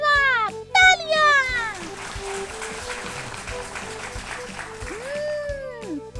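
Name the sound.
children applauding a correct quiz answer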